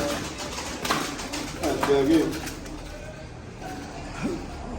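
Pigeons cooing nearby in a loft setting, a few soft low coos under someone speaking, with faint creaks and background rustle throughout.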